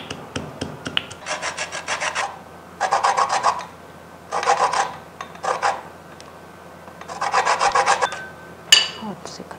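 A lemon is zested on a metal grater in a home kitchen, with four or five bursts of quick rhythmic rasping strokes separated by brief pauses, close and fairly loud, and no voices.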